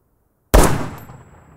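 A single sharp crack from an SVD Dragunov sniper rifle during a combat accuracy test, close and loud out of silence, with a ringing tail that fades over about a second.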